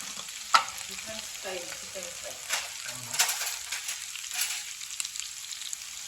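Food frying in oil in a pan at home, with a soft steady sizzle, a few scattered stirring clinks and quiet talk nearby.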